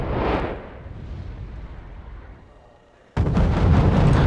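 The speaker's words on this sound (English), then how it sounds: "Now, seeing the effectiveness of these mortar carriers in dislodging their position, I make sure to bring in another couple to continue the bombardments." Mortar carrier bombardment in the Wargame: European Escalation video game: a heavy blast rumbles and decays over about three seconds, then another loud, booming impact erupts abruptly and keeps roaring, with no voices.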